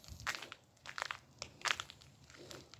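Thin glaze ice on the ground crunches and crackles underfoot in a few sharp, brittle bursts. The sound is faint and close.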